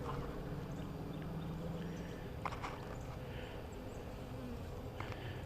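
Honeybees hum steadily around an open hive during an outdoor spring inspection, a faint continuous drone with a few light clicks and knocks from handling.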